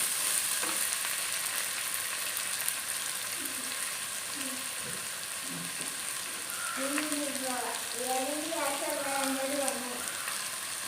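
Two chopped medium onions and curry leaves fry in a pan for a Kerala-style crab roast, giving a steady close sizzle and crackle, with a voice speaking over it toward the end.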